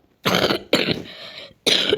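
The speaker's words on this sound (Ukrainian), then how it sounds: "я просто кашляю" Three harsh coughs from a sick boy close to the microphone, the first two in quick succession and the third after a short pause.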